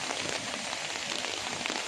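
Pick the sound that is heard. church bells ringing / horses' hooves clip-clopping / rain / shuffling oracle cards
rain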